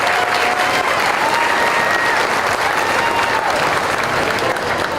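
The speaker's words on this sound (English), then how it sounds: "give him a round of applause" An audience at a county fair market steer show claps steadily for about five seconds, dense and sustained applause with a faint whistle-like tone drifting over it.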